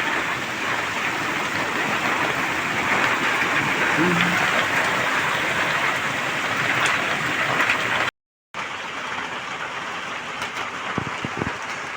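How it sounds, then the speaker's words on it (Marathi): Steady, dense downpour of heavy April rain in a rural village roars throughout, with a brief dropout near the end before the rain resumes. "फुल जोरात पाऊस आहे भावांनी, एप्रिलमध्येच."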